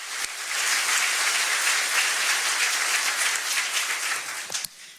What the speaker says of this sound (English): let's give our head table a round of applause